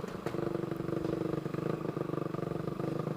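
A road race motorcycle with a 66 mm piston and open exhaust idles nearby, a fast, even pulsing thump with a steady rattly tone, running alone without voices.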